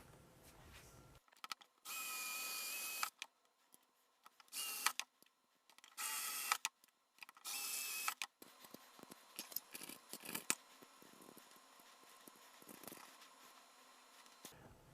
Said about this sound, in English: take a 3mm drill and extend the hole in the housing profile